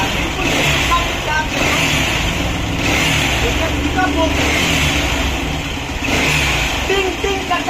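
Kawasaki Caliber motorcycle with a piston ring problem idling after a kick start, a steady close engine drone with rhythmic surges, heard under someone talking.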